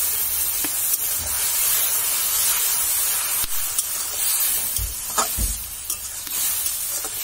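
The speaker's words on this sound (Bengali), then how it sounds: "তো এখানে মরিচের গুঁড়া, হলুদ, জিরার গুঁড়া সব মিলিয়ে গুলিয়ে দিয়ে দিলাম।" Chili powder, turmeric and cumin powder frying in a pan, giving a steady close sizzle with a few soft stirring scrapes and knocks, and no talk.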